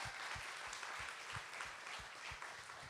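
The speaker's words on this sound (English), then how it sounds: "let's give them one more round of applause while they go do the hard part" Audience applause for the judges at a pitch night, a dense wash of many hands clapping, continuous and steady, with some lower thumping beats beneath it.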